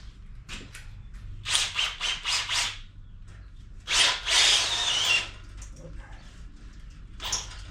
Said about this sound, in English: We'll just pop them holes open a little bit so we get a 3/8 hole.